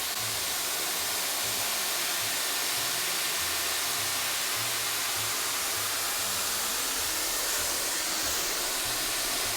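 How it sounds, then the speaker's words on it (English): Dyson Airwrap hair styler with a round brush attachment blowing steadily on high heat and high speed, a loud continuous broadband airflow roar close by with a low motor hum underneath, no talking. "I'm going to go on high heat and high speed."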